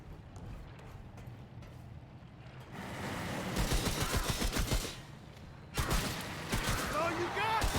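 Guns firing in Remnant: From The Ashes, rapid volleys of shots that swell from quiet into loud bursts midway, break briefly, then resume, with a voice speaking over parts of it.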